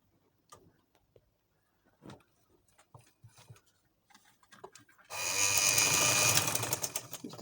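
A sewing machine stitches baby frock fabric, running steadily and fairly loud for the last few seconds after scattered quiet handling noises.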